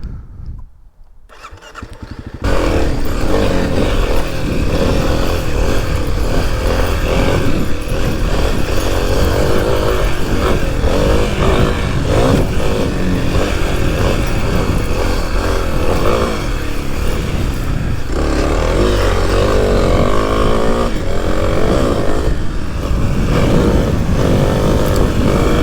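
Kawasaki KLX300 dual sport motorcycle rides continuously, its single-cylinder engine droning loud and close with shifting revs throughout, no talking over it.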